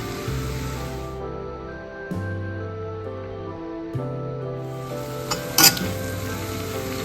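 Leeks and grated coconut sizzle steadily in butter in a pan, with occasional stirring scrapes and a brief clatter near the end, the frying heard alone without voices.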